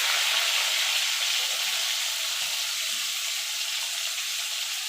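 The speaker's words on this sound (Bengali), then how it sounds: "এবার পটলগুলোকে আমি ভেজে নেবো।" Pointed gourds (potol) frying in oil over low to medium heat give a steady, loud, even sizzle throughout, close up and with no talking.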